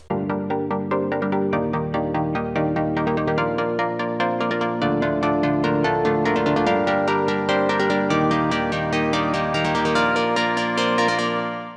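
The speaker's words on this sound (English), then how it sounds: "we will increase the cutoff during the build-up which will sound like this" Sustained synth chords in a repeating progression, made in FL Studio 20, their tone growing steadily brighter and more open as the filter cutoff sweeps upward during a build-up, no voices.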